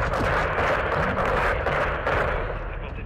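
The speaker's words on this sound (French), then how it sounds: "Détruisez cette porte avec un missile ou le canon 40 mm." In Modern Warfare II, a missile or 40 mm cannon pounds a complex door with a loud, rapid string of heavy blasts and crackling impacts that merge into a thick roar, easing slightly toward the end.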